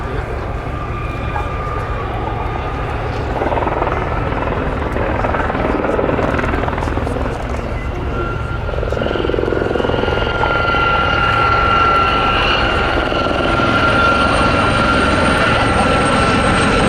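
Westland Gazelle helicopters fly past in formation at an RAF Cosford air show, a loud sustained rotor thrum and turbine whine that builds slightly over the whole stretch.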